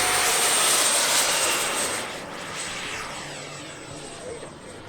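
Freewing Mirage 2000 EDF radio-controlled jet flying past with a loud, high whine that fades as it moves away, ending in a fainter rushing drone.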